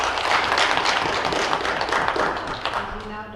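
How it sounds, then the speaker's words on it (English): Audience applause at a university staff union chapter meeting, a short burst of dense clapping that starts full and tapers off over a few seconds. "A round of applause for Chris."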